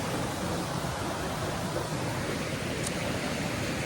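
Comers Creek Falls on the Appalachian Trail: a waterfall's steady, broadband rushing hiss, continuous and even throughout, with no voices over it.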